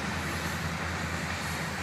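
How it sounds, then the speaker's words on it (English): A train rolling past a university ballfield, a steady loud broadband rumble and roar of wheels on rail that holds constant throughout, with no voices. "Train going by."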